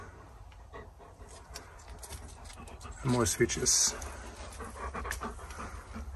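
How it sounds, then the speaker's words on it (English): A dog pants softly through an abandoned industrial tunnel with electrical switching gear, its rhythmic breathing fairly close and steady beneath someone talking, with a louder burst of movement midway. "the breathing you can hear is my dog"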